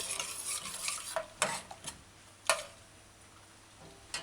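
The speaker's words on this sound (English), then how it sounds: "Right after that, add diced turnip. Stir it in, stir it in." Diced turnip is stirred into an asparagus coconut stew simmering in a pot, with a few sharp clinks and scrapes of a utensil over a soft, quiet bubbling sizzle.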